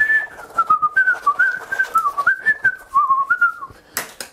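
A person whistles a wavering, melodic tune in clear rhythmic phrases, close and solo, ending with a short burst of noise.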